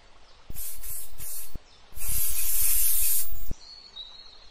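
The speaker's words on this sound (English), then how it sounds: "Bug spray." Bug spray from an aerosol can hisses out in two bursts, a short spray followed by a longer, louder one, close and with no talking.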